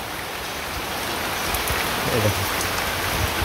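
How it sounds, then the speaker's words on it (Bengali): Steady rain patters and hisses throughout, with a few louder drops landing close by. "বৃষ্টি শুরু হয়েছে"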